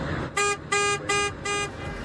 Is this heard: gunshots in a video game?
no